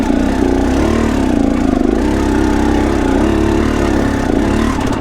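A GasGas EX250F dirt bike engine runs off-road, a loud, steady close engine drone holding an even pitch throughout with no speech.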